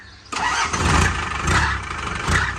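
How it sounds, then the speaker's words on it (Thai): An old car's engine is started in a garage: a brief starter whir catches into a loud, close running engine that surges and settles into a rough idle. "ให้ช่างทอนมาสตาร์ทแล้วขับให้ดู"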